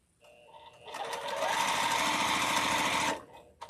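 A sewing machine runs fast for nearly two seconds, a steady loud whir that ramps up and cuts off abruptly, with a little motor sound before and after.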